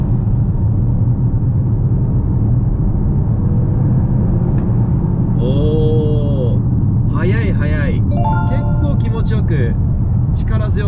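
Alfa Romeo Tonale TI (2023) with its 1.5-litre engine accelerating hard, a loud, steady low engine rumble filling the cabin throughout while people talk over it.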